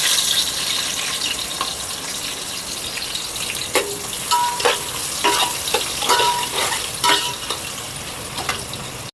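Whole biryani spices and onions frying in hot oil for a beef biryani, a steady close sizzle throughout with repeated scraping stirs and clinks of a spoon against the pot in the second half.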